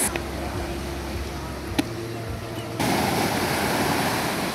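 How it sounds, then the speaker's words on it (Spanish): Surf breaks steadily at Carrizalillo beach in Puerto Escondido during a children's surfing tournament. A continuous broadband roar of waves mixes with wind buffeting the microphone, growing noticeably louder and fuller partway through. "Ahí continúan las buenas olas"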